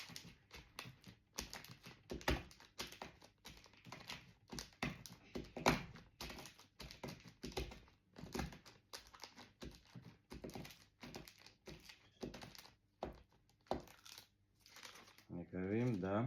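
Tablets being crushed inside folded paper by hand in place of a mortar: a long series of dry taps, crunches and paper crinkles at close range, with a voice talking at the end.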